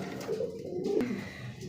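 Pigeons coo steadily and close by in a pen of birds offered for sale, with soft repeated throaty calls and a low background murmur.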